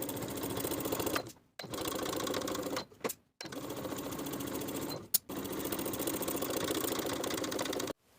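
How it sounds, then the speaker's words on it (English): A sewing machine edge-stitches a bag pocket in four steady runs of fast, even needle chatter, separated by short pauses, heard close and fairly quiet. "Sew straight across, edge stitching along the bottom folded edge, catching both edges as you go"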